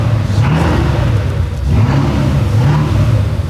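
Porsche Cayenne Turbo with its exhaust cut open revs hard, a loud, raspy engine rising and falling in repeated revs close by, with no talk over it.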